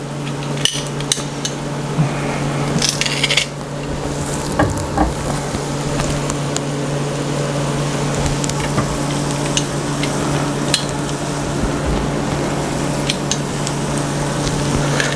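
Garlic gets stirred into bacon sautéing in a pot, with a steady sizzle beneath repeated sharp clanks and scrapes of the utensil against the pot, loudest in the first few seconds.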